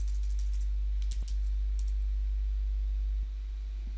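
Typing on a computer keyboard while playing modded Minecraft (FTB Monster), a short run of crisp key clicks in two small clusters over a steady low hum, no talking.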